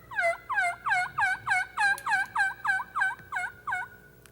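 Wild turkey gobblers gobble around hens in a rapid, even series of about a dozen loud rattling calls, close and prominent over faint outdoor background.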